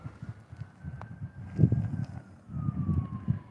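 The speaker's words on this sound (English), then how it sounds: "We hear sirens." Emergency vehicle sirens wail faintly from far below a mountaintop lookout, a thin rising and falling tone drifting over low rumbling wind and background noise.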